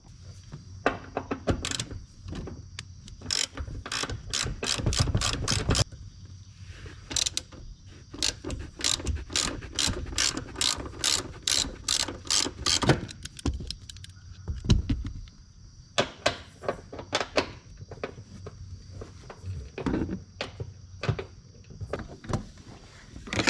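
A ratchet loosening the seat bolts in a Honda Civic: quick runs of sharp clicking pawl strokes in bursts, separated by short pauses and occasional clunks, close and clear.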